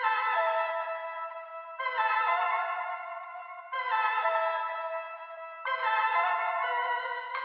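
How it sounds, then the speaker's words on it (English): A pitched, processed vocal phrase repeats four times in a steady loop, bright and sustained with echo-like effects, no other sounds around it. "the vocal loop is sounding like this"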